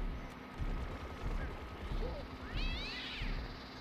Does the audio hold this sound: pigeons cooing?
no